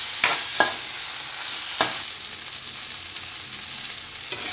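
A masala mixture sizzles and fries in a pan for a prawn curry with chow chow, giving a steady close hiss broken by a few sharp scraping stirs and no talking.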